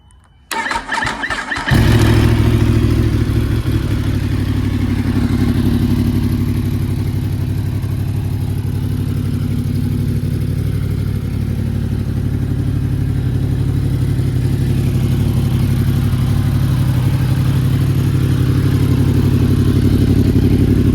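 A 2021 Yamaha R1 motorcycle engine cranks and fires on a cold day of about 40 degrees, then settles into a loud, steady idle close by with no talking.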